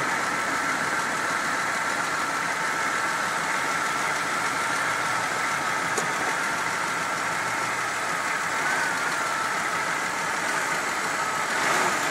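A 1995 Buick LeSabre Custom engine idles steadily at a constant even hum, moderately loud and uninterrupted, with no talking.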